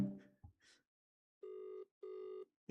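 A phone rings back while a call is being placed, with two even, sustained ring tones separated by a brief gap, clear and close, after a few soft stray sounds.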